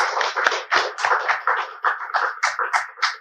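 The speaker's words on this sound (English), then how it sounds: "I think we should give a round of applause both for the questions" Steady applause from an audience, a dense wash of many hands clapping throughout, fairly loud and close.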